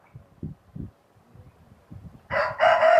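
A Nellore Kondaiah fighting-breed rooster crows once, loud and close, near the end, after a stretch of soft irregular pecking and scuffling sounds.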